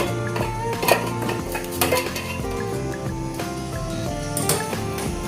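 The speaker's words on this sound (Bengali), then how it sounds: "ছানাটা এবার ছেঁকে নেব এই চালনিটার সাহায্যে" Chhana (cottage cheese) from about one and a half kilograms of milk is strained through a metal sieve, with repeated clanking and clinking of metal utensils and cookware in a busy, fairly loud rhythm.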